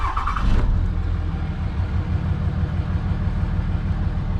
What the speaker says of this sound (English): This is the smoothest I felt this truck idle.